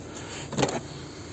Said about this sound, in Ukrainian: Сидіння дуже легко складаються,